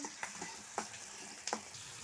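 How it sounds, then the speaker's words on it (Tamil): Sliced onions and tomatoes sauté in a pan, giving a faint sizzle broken by a few soft scraping stirs of a spoon. "வெங்காயம் போட்டு அப்படியே தக்காளி போட்டுக்கலாம். தக்காளி போட்டு நல்லா அப்படியே வதக்கிக்கலாம்"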